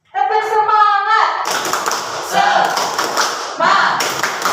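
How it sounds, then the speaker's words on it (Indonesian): Schoolchildren in a science classroom perform the 'tepuk semangat' clapping chant, with voices calling out together before a burst of quick, rhythmic group clapping that continues in close, loud waves. "Tepuk semangat."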